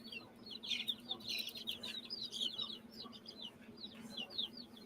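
Several chickens cluck and chirp in a steady, overlapping run close by, with repeated short calls over a low farmyard hum and no talking.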